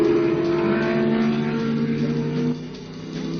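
Ferrari 12-cylinder race cars and Cobras racing at Sebring, a sustained loud engine drone with layered harmonic whine that holds steady, then drops in level near the end as the cars pull away.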